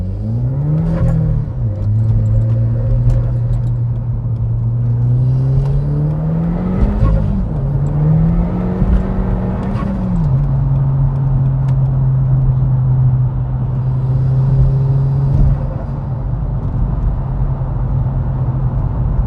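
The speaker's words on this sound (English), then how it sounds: "Let's do a cheeky pull away from this roundabout." A 2.0 TFSI Audi pulls away from a roundabout, its engine note climbing under load, dipping through a couple of gear changes, then settling into a steady drone, heard from inside the car.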